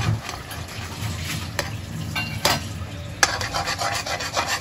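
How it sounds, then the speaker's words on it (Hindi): A spoon scrapes through a jaggery barfi mixture with ghee and milk in a pan, making steady rubbing strokes at close range over a faint sizzle, with no speech. "इसमें ऐड करेंगे थोड़ा सा घी और ऐड करेंगे दूध। अब हम इसको ऐसे ही मिक्स करते रहेंगे।"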